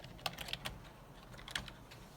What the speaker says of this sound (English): We're going to type here Xamarin.